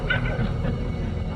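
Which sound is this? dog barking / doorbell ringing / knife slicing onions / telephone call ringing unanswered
dog barking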